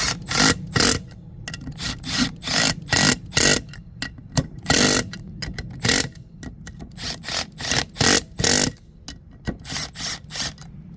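A wrench tightens the bolts on a two-piece split-rim go-kart wheel in a rapid run of sharp metallic ratcheting clicks, bursts separated by short pauses, close and fairly loud.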